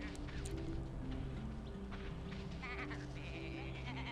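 Sheep bleating inside the video game Tak and the Power of Juju, short nasal calls layered over a dense, steady game soundtrack and ambient noise.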